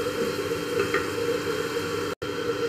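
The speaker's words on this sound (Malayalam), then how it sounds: "ഒന്ന് വഴറ്റാം." Grated coconut sautéing in a pan for a Kerala-style chicken thoran, a steady, close sizzle with soft stirring scrapes and a brief dropout near the end.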